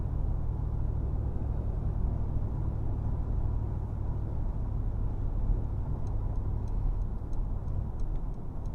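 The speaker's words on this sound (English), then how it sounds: "Very quiet vehicle to drive." Low, steady road and engine rumble inside the cabin of a Mercedes-AMG G63 while driving, a subdued hum with faint ticking clicks near the end.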